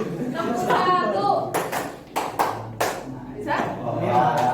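A teacher in a classroom demonstrates a clapping pattern: a few sharp, close hand claps spaced irregularly, set against steady speech and classroom chatter.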